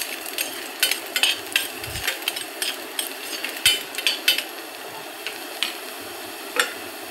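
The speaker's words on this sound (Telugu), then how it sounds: "దోరగా వేగనివ్వాలి ఉల్లిగడ్డలు" Onions frying in oil in a pan at home while being stirred: a steady soft sizzle broken by frequent scraping and clinking spoon strokes against the pan, close up, with no talking.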